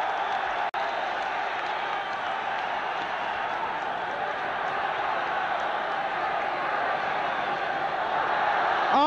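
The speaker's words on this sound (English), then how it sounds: "John Givens and the crowd rise to him." A large football stadium crowd at the Republic of Ireland versus USSR 1974 international keeps up a sustained, loud roar of cheering and applause, with one sharp crack early on.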